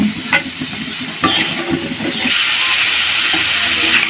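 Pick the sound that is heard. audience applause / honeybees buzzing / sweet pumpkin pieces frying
sweet pumpkin pieces frying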